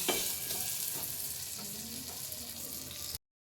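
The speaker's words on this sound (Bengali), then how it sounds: "এইভাবে আমি বাকিগুলো সব ভেজে ভেজে তুলে নেব।" Methi paratha fries in oil in a pan, a constant close hiss and sizzle with faint stirring scrapes, no voices, before cutting to silence.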